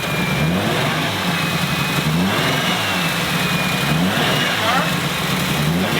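Loud drift car engine at a UAE drift event, revving in repeated rising bursts over a steady idle with nearby voices talking.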